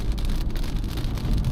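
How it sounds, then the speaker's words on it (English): Heavy rain drums steadily on a car at a race track, a dense continuous wash of close, loud drops with a low rumble beneath and no voices. "There is heavy rain."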